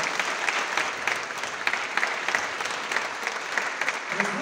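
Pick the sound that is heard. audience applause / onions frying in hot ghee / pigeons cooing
audience applause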